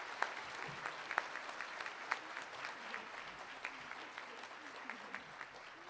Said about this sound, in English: she does deserve a hand of applause